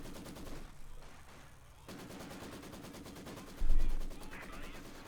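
Tank gunfire and explosions from a Company of Heroes 2 battle between Wehrmacht and Soviet forces: rapid repeated shots form a clattering barrage over a battle din, with a heavier boom near the end.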